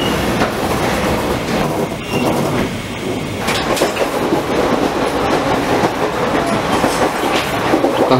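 A passenger train runs along its rails with a steady rumbling roar and repeating clickety-clack from the wheels, close and loud throughout with faint squeals at times.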